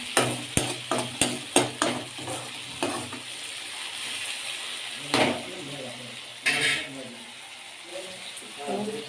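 Maggi noodle ingredients stirred in a pan over a low flame, with a soft continuous sizzle and a rapid series of sharp spoon scrapes and taps against the pan early on, then sparser clinks later.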